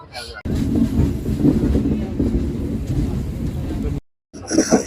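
A passenger train running on rails on a long journey, a steady low rumble and rattle heard from inside the coach, with a short silent gap near the end followed by more noise.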